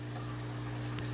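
An aquarium hang-on-back filter hums steadily with a faint trickle of pumped water, quiet and continuous at close range.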